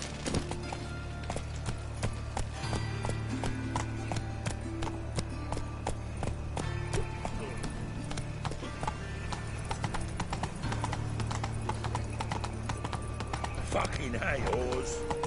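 Horse hooves clip-clopping in a steady walking rhythm, sharp and fairly near, while people talk over them.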